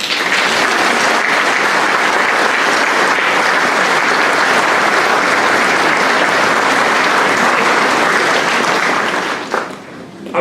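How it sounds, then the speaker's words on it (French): Dense, loud applause from an audience at a mayor's New Year wishes ceremony in Garéoult, continuous clapping for about nine seconds before tapering off. "Je vous demande de les applaudir"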